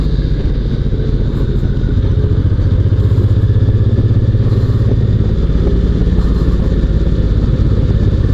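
A motorcycle fitted with a car tyre roars as it accelerates hard, a loud, steady engine drone with clattering and thumping running throughout, close to the microphone and with no talking.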